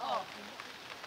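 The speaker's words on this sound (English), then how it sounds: "it's starting to pour hard now, you know? Yeah, so the rain's starting to come down a little" Steady hiss of rain pouring down on an outdoor high school soccer field on a cold night, a soft continuous wash with a brief voice at the very start.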